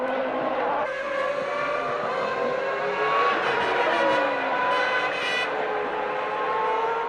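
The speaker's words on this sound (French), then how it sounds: "La Jordan Peugeot part en tête à queue." A Jordan Peugeot Formula 1 car spins out during a 1997 Grand Prix, its engine note whining and shifting pitch over steady loud racing noise with a brief rising squeal, no talk.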